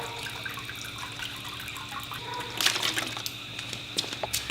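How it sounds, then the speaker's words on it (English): Home-brewed NEIPA wort drains from a lifted hop bag in a steady, trickling liquid stream, with a brief louder splash partway through and no talking. "Make sure you drain it all the wort out."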